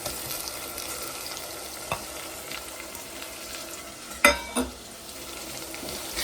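Tomatoes frying in a pan for dal fry give a steady, moderate sizzle throughout, with a couple of sharp clinks from a spoon or ladle striking the pan near the end.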